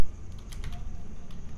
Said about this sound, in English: I will be typing here first.